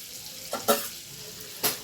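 Butter melting with a little white oil in a pan gives a soft, steady sizzle, broken by a few brief scraping stirs.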